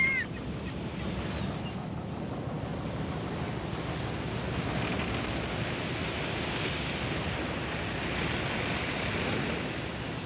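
Steady wash of sea waves and rushing water from a boat on a Hebridean voyage in open water, a broad constant roar with a faint bird call at the start.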